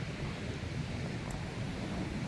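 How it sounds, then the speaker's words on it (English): Steady, unbroken wind roaring across a microphone at Virginia Beach near a fishing pier on a red-flag-warning day, broadband and constant with low rumble throughout and no voices. "Seems pretty windy and it's a red flag warning."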